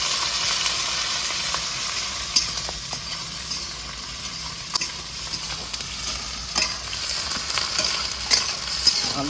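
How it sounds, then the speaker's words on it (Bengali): Sliced onions and dried chillies fry in a little oil in a pan for a sesame chicken dish, a continuous loud sizzle broken by irregular scraping clicks of a spatula stirring. "ভালো করে নেড়ে চেড়ে ভেজে নেবো"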